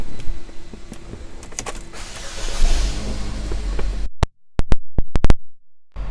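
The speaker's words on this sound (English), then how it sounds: "power moonroof" Power moonroof on a 2016 Buick Verano running: a steady electric motor whir with a faint hum for about four seconds, then stopping, followed by a few sharp close clicks and taps inside the cabin.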